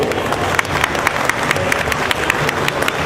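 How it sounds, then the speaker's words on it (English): Audience applause welcoming a guest at a tourism promotion event, a continuous crowd of clapping with distinct individual claps standing out, fairly loud and steady. "you can A big round of applause."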